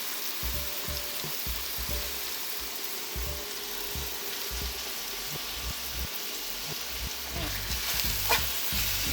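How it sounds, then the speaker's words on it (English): Peppers sauté in a hot pan with a continuous sizzle and a broad frying hiss, broken up by repeated scraping and stirring strokes, close and moderately loud with no talking. "I just wanted to saute a little bit."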